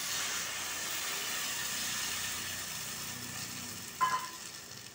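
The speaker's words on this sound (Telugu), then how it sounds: "చింతపండు సరిపడా కొంచెం వేగుతున్నది." Tamarind fries in a pan for bellam pulusu, giving a faint steady sizzle and hiss with a brief sharp clink near the end and no voices.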